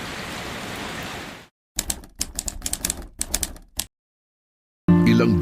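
Heavy rain pours as a dense, loud hiss for over a second, then cuts out, giving way to a burst of sharp clattering patters before a final noisy rush.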